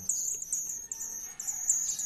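A cucak jenggot songbird chirping in high, repeated short bursts, fairly close and clear over a quiet background.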